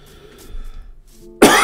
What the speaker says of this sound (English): pardon me again for that coughing, folks.